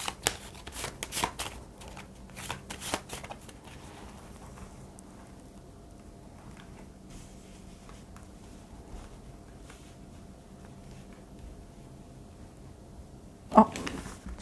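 A tarot deck is shuffled and cards are drawn close up, with quick riffling bursts at the start, soft card slides and taps in the quieter middle, and a sharp flick near the end.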